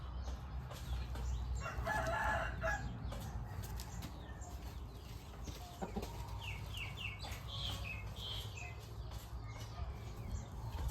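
A six-month-old Burmese game rooster crows and clucks on a farm, with bursts of wing flapping and other birds chirping faintly nearby, moderately close and fairly quiet overall.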